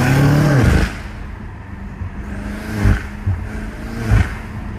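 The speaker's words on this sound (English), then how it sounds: "You can hear my exhaust" BMW M5 Competition F90 fitted with new intakes, its exhaust revving loudly at close range with a deep roar at first, then several shorter throttle blips.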